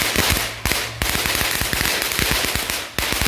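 Fireworks crackle and pop in a dense, rapid barrage of sharp bursts, loud and close, with a few brief gaps between volleys and no talking.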